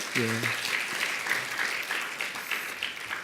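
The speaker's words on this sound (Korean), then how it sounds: "박수로 환영해 주시기 바랍니다" Church congregation applauding to welcome a guest during a Sunday worship service, a steady wash of clapping across the room after a brief spoken word at the start.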